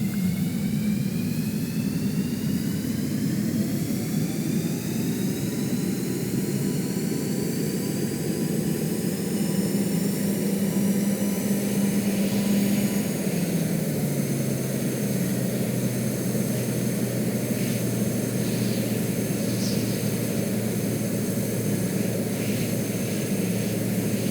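Aircraft engine in the Stormworks game, a steady loud droning roar with rising and shifting tones throughout, heard alone.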